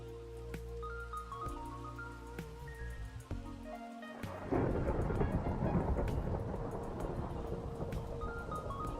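Game-world thunderstorm in Minecraft: loud rumbling thunder over steady rain, with a heavy downpour hiss that swells after a few seconds and continues to the end, alone without speech.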